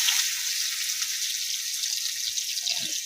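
Dried chilli and chopped onion frying in hot oil for a tempering, giving a steady, close bright sizzle throughout with no talk.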